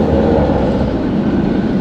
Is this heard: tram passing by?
yes